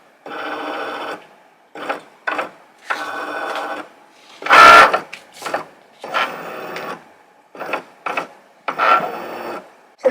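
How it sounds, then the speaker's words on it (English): A Cricut cutting machine scanning a print-then-cut sheet gives off a run of mechanical whirs and motor buzzes in short start-stop bursts, with one louder rasping burst partway through, close and with no talking. "Once again the machine scans."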